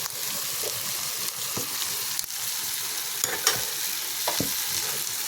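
Begun bahar, an eggplant dish, sizzling in a pan while being stirred, a steady frying hiss with intermittent scraping and knocking of the spatula against the pan.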